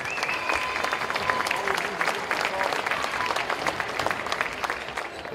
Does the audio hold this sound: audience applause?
yes